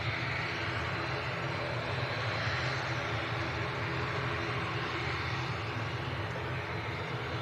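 A Logan Air propeller plane takes off from Manchester Airport for Aberdeen, its steady engine roar and broadband rush holding loud and constant throughout, with no talk.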